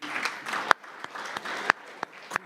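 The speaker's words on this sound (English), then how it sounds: "You may applaud." Scattered applause from a small audience at a city commission meeting. A few sharp, louder claps stand out above a thin, steady patter, and the whole burst lasts only a couple of seconds.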